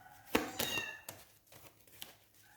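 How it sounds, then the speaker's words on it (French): A small cat meows a few times at close range, short bright cries with a harmonic ring, in a quiet indoor room with no talk over them. "désolé pour le petit chat qui crie là"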